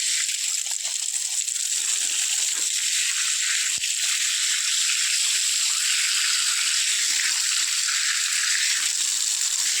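Steady hissing rush of water running from a pipe, constant and fairly loud throughout with no voices.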